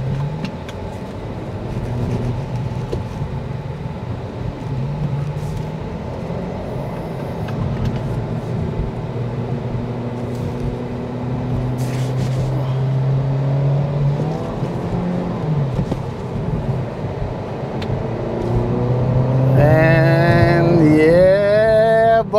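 A 2023 Acura Integra A-Spec driving, its engine a steady low drone with gradual rising pitch as it accelerates, growing louder toward the end with a brief higher whine and sharper mechanical revving in the last few seconds.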